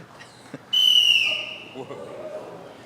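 Audience members blow toy whistles at a church gathering: a loud, piercing whistle blast starting sharply and sliding slightly down in pitch, fading after about half a second, with scattered faint taps before and murmuring room noise after.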